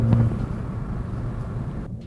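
A 2013-2018 turbocharged Ford Focus ST fitted with a Corsa 3-inch stainless steel Xtreme cat-back exhaust gives a steady, deep exhaust rumble close by, holding an even level throughout with no talking.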